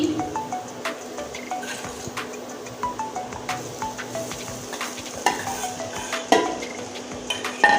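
Potatoes stir-fried in spice masala for aloo paratha filling sizzle steadily while a spatula knocks and scrapes the pan in a busy, irregular rhythm, close and clear with no talk.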